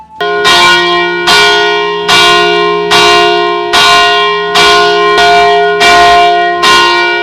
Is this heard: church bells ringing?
yes